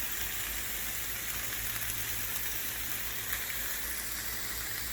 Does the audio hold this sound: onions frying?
yes